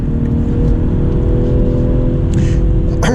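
BMW M340i xDrive on all-season tires accelerating along a tight, twisty road, a steady loud engine drone with droning harmonics throughout and a brief rise in pitch near the end.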